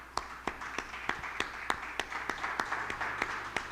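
Congregation at a Sunday church service clapping hands in offering to God, steady rhythmic claps roughly every third of a second over a soft crowd wash, fairly faint and distant with no voice on top.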